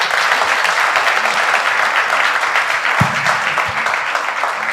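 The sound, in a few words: church congregation applauding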